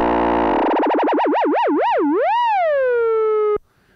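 A Behringer DeepMind 12 synthesizer plays a sustained flute-like patch, its pitch wobbling in a wide, steady sine-wave vibrato that gradually slows and settles into a held tone before cutting off abruptly; loud and alone.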